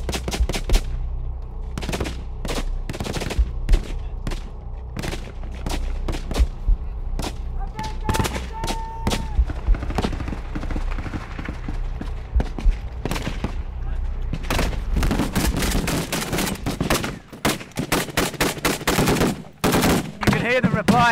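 Gunfire from a firefight with ISIS fighters near a farmhouse and palm groves, with many sharp shots and rapid bursts, some near and loud, others more distant, growing denser toward the end, with voices heard in between.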